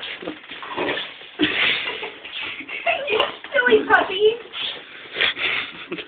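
A dog whimpers and whines in uneven bursts during a bath, with scuffling and shuffling movement nearby and voices mixed in.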